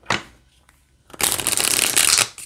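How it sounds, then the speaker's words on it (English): A Rider-Waite mini playing card deck is riffled: a brief flick, a pause, then a dense burst of rapid card flutter ending in a quick tap. "let's shuffle."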